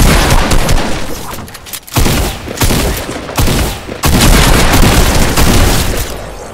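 Rapid bursts of gunfire in the video game Fortnite, loud and close, with dense volleys broken by brief pauses and no talking over them.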